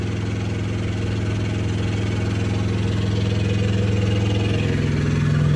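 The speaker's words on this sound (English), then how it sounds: "I know that APU is probably loud." A Peterbilt truck's APU running loudly up close, a steady droning engine hum with strong low tones and a constant vibrating rattle, unbroken for the whole stretch.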